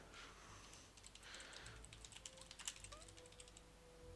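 Quiet computer-keyboard typing, a scattered run of light key clicks that cluster into a quicker burst near the middle, with soft voice fragments alongside.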